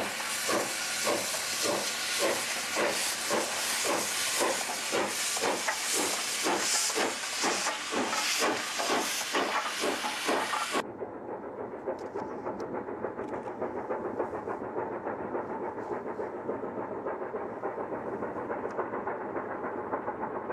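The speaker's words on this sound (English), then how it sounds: "Still climbing continuously, the train now crosses the second horseshoe viaduct" A steam locomotive climbing uphill at dusk chuffs in rapid, regular beats under a roaring hiss, then the beats fade and a softer, steady rumble continues as it crosses a horseshoe viaduct.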